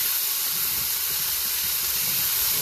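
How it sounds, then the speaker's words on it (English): Diced pork tenderloin browning in sesame oil in a pan, a steady loud hiss and sizzle that holds unbroken throughout, with no talk over it. "He took a pork tenderloin and chopped it up, diced it up, and we are browning it."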